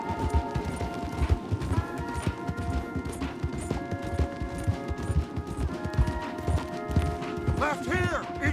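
Horses gallop hard in the Red Dead Redemption video game, a steady rapid clatter of hooves with a few clanks and a whinny near the end, while voices talk over it.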